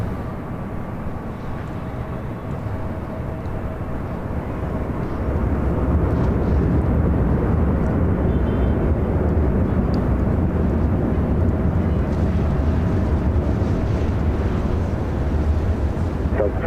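Airliner on an autoland touchdown on runway 24 left at LAX, a continuous broadband rumble of engines that swells louder partway through and stays heavy to the end, heard without talk.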